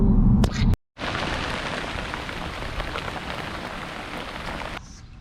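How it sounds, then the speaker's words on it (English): Steady Indiana rain pours down on a surface near Kokomo, a dense, even hiss of drops sustained for several seconds after a brief thump at the start. "Do you see what I see? Glorious, glorious Indiana rain, man."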